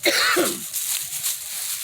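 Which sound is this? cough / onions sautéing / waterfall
cough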